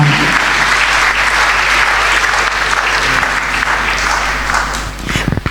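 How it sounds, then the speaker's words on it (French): A church congregation claps for the Lord in a sustained, loud burst of applause from many hands that continues steadily, then thins into scattered claps at the end. "Est-ce que tu peux acclamer pour le Seigneur Jésus-Christ?"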